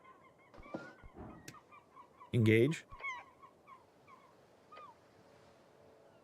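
A goose-like bird in a fantasy role-playing video game lets out a loud, brief honk in the middle of the scene, surrounded by softer game ambience and scattered chirps, with a voice briefly speaking.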